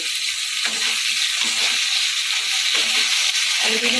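A masala for an eggplant dish sizzles loudly and steadily in a pan, close up, while a spatula stirs it in regular strokes that produce rhythmic scraping pulses about every half second. No voices.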